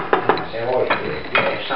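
A spoon stirs a thickening fish gravy in a pot, scraping and clinking against the metal sides with a few sharp taps among the steady swirling.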